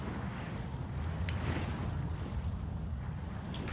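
Steady, rushing wind texture used as sound design in a deconstructed club album, a continuous broadband whoosh with a low rumble that holds at an even level throughout, with no voices.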